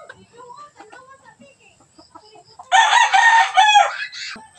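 Native Bisaya and Panabong chickens on a Filipino farm: after a stretch of quiet talk, a rooster lets out a loud, close crow lasting nearly two seconds, with scattered clucks around it.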